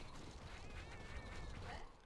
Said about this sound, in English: It sounds like a bird, but it's not. It's a chipmunk.